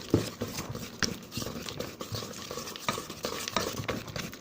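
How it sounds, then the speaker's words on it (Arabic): Margarine and icing sugar are worked together in a bowl, giving close, thick squelching and scraping strokes in a steady irregular rhythm, with a few sharper knocks of the utensil. "250 غرام مارغرين، 150 غرام تاع السكر غلاس، نخلطوهم كوم الكوما"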